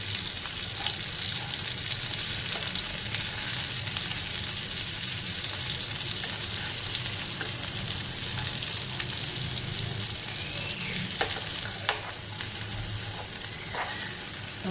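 Stuffed okra coated in green masala frying in a pan, a steady close sizzle running throughout with faint scraping as a spoon gently turns the pieces, no talking.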